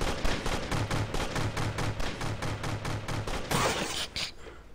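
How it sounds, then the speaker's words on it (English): Rapid automatic gunfire from a video game firefight, a fast, even string of loud shots followed by a few heavier bursts and impacts near the end. No one speaks. "Stop shooting at me!"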